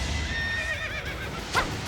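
A horse whinnies in Fire Emblem Three Houses, a loud, wavering neigh that rises and falls over about a second over steady game background, followed by a brief bright snort-like burst.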